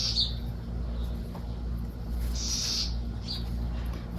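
Small birds chirp in a sunny garden with short, faint, high tweets in scattered bursts over a steady low hum and background hiss.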